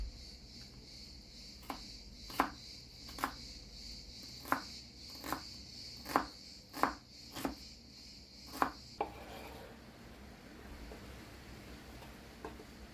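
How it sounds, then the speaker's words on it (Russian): Red onion chopped into small pieces on a board with a knife, about ten crisp, evenly spaced knife strikes over a faint steady hum, then quieter handling as the cutting stops. "Красный лук нарезаем на небольшие кусочки"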